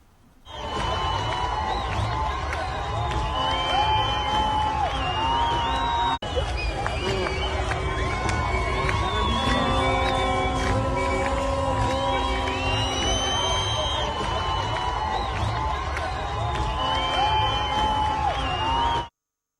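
A crowd celebrates in the streets of Tehran, a dense continuous roar of many voices with cheering and whoops under steady background music throughout.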